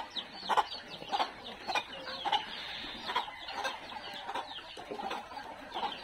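Chicks cluck and peep while being given feed, a scattered run of short faint calls repeating through a quiet background with no speech.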